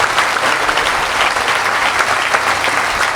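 An audience at a spiritual talk breaks into loud, sustained applause, dense clapping from a large crowd that fills the whole moment with no break.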